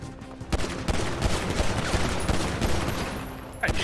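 Gunfire in the GTA 5 RP video game, a rapid fusillade of sharp, loud shots in quick bursts that continues steadily across the moment, alone without voices.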